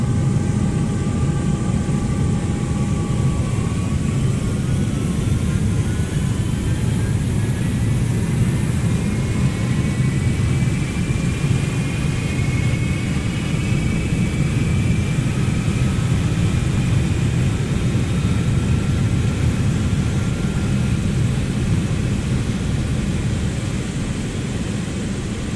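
Jet engine of a Boeing 777-300ER spooling up in a flight simulator game, a steady loud roar with a rising whine, continuous and alone throughout.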